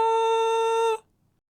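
A single steady high-pitched tone with clear overtones is demonstrated as a high-frequency wave, holding at constant loudness for about a second before stopping abruptly into silence.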